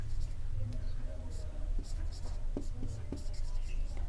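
Pen or pencil scratching on paper by hand, short faint strokes and taps heard close beneath a steady low hum, with a woman's soft speech in places.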